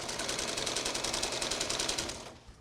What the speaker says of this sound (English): we sew down a straight line again